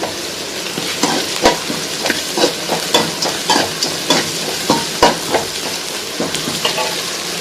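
Green chillies land in a hot pan and sizzle, with frying crackle and repeated stirring scrapes in an uneven rhythm, close by and fairly loud, while chicken is being cooked.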